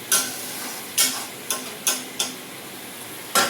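A lid is set on a pan of simmering Bengali-style lote fish curry, giving a series of sharp, close metallic clicks and clatters spaced irregularly over a soft background bubble.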